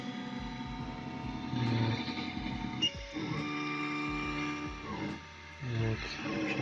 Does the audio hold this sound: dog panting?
no